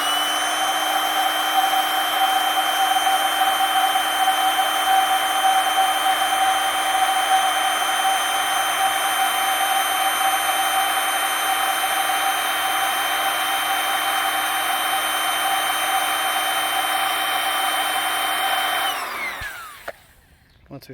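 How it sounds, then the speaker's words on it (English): Electric air pump drones steadily through the one-way valve of a Sable SA-HF071 inflatable pool. The sound is loud, constant and close, running about nineteen seconds before it abruptly cuts off. "Then we're going to take this and put it in this one-way valve and pump it a little more."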